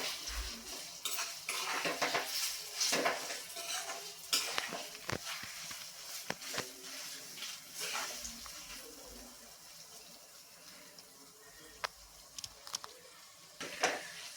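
Semolina and banana are roasted in ghee in a pan for temple-offering sheera, with steady scraping stir strokes, occasional metallic taps and a soft sizzle, close and continuous with no speech.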